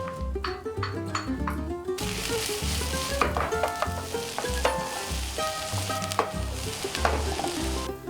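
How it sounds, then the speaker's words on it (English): Green pepper sizzles loudly in a pan for Turkish menemen, a steady frying crackle broken by repeated clinks and scrapes of a utensil stirring against the metal. "We now put in green pepper."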